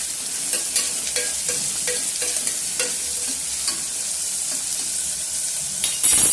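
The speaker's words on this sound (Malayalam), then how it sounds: "സവാളയിൽ അല്പം ഉപ്പ് ചേർത്ത് ഇളക്കി നല്ലപോലെ വഴറ്റാം" Onions with salt being stirred and sautéed in a pan, an even sizzle broken by repeated light scrapes and clinks of a spoon against the pan, close up with no voices.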